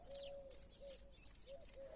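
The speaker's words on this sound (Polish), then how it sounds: "Cykada gdzieś tu jest." An insect chirps in a steady, rapid pulsing pattern, several short bursts repeating evenly, faint and fairly close, with no other sounds.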